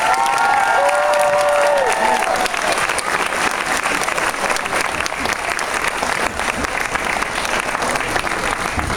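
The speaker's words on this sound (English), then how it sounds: "Give yourself a round of applause" Applause and cheering for an 8th grade graduating class at the Leawood K-8 Center, dense clapping from a large crowd with a brief shout or whistle at the start, steady and loud throughout.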